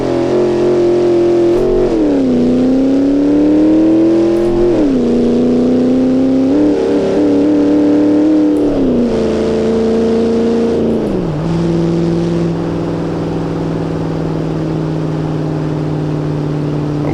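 A modded Dodge Dakota R/T truck in a video game drag race roars loud and close, the engine note climbing through several gear changes with dips between each shift before settling into a sustained high drone.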